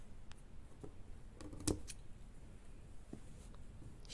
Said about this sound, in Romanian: și scot acum și tai ața